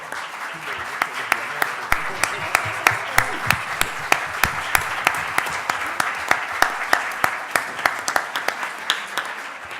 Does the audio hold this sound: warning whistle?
no